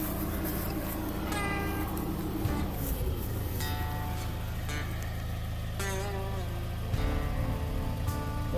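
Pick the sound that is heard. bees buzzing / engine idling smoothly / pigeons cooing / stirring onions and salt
engine idling smoothly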